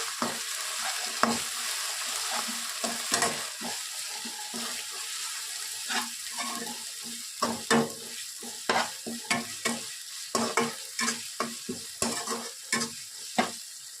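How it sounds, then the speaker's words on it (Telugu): Ginger paste fries in a pan with a steady low sizzle, while a spoon stirs and scrapes in a run of short, repeated strokes that grow more frequent toward the end. "అల్లం పేస్ట్ కొద్దిగా పచ్చివాసన వెళ్ళేంత వరకు ఫ్రై చేసుకోండి"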